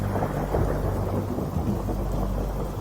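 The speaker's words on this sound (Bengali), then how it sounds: "বাইরে তখনও এক নাগাড়ে বৃষ্টি হয়েই চলেছে।" Heavy, steady rain pours without pause under a deep rumble of thunder, a dense, loud wash of sound used as a story sound effect for a night of endless downpour.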